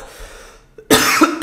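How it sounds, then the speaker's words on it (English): A single sharp, loud human cough bursts out after a quiet stretch, followed by a second smaller cough, close to the microphone in an indoor room. "I'm a human being and I can have cough."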